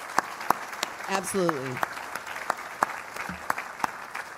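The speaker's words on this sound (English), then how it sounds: "we just absolutely should put our hands together and clap for" Hands clap in sharp, evenly spaced bursts from an audience at a Minnesota Landscape Arboretum gala, while a voice speaks briefly over the applause.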